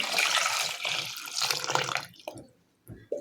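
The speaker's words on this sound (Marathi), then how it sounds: "आता काय करायचं आहे याच्यामध्ये भरपूर पाणी ओतायचं आहे" Plenty of water poured over three ripe mangoes in a vessel, a broad splashing gush for about two seconds, then a few faint drips and small splashes after it stops.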